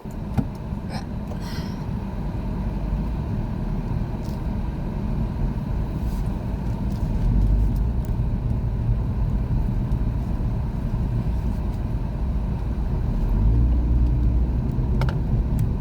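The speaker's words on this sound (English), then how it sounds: "I'm gonna get out of this park and keep going for a drive." Steady engine rumble and road noise from inside a moving 2010 Toyota RAV4, a continuous low drone that swells slightly as the car speeds up, with faint clicks near the start and no speech.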